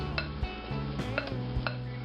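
Silicone spatula working a sticky hamburger mixture in a bowl, a few soft, close knocks and scrapes over about two seconds, with no voices.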